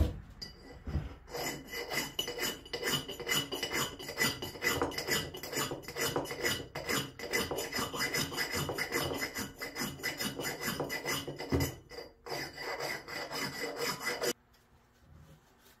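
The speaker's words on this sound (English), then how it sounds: "I'm just gonna use a chainsaw file." A chainsaw file sharpens a Craftsman or farm axe, a close rapid series of rasping metal strokes in a steady rhythm that stops abruptly near the end.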